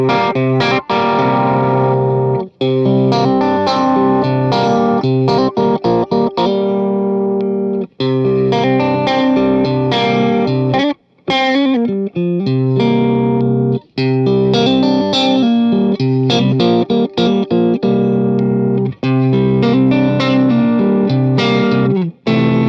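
Thick overdriven electric guitar through a Seafoam Trident overdrive pedal plays continuous chords and riffs across different pickup selections, loud and close, with only a couple of brief pauses and no talking.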